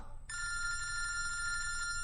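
An old-style telephone bell rings once, a bright continuous trill lasting under two seconds over a low background hum.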